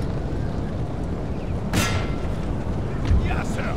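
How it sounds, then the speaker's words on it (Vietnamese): Artillery fire rumbles through a Napoleon Total War battle, with one sharp, loud cannon blast near the middle and another heavier thump later, over a constant dense roar of combat. "Pháo ba bắn gì mà dã man thế."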